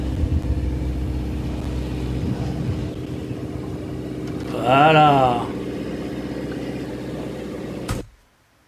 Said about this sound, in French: Le bruit du moteur est très fort.